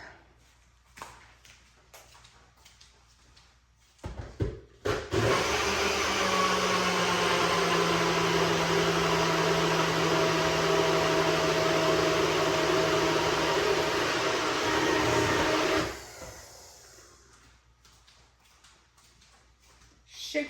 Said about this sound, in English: let's put this in the blender.